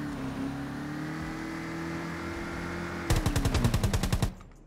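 A sustained burst of rapid automatic gunfire erupts in the Rules of Survival battle royale game, about a dozen sharp, evenly spaced shots that cut in loudly over a steady vehicle engine drone and then stop abruptly.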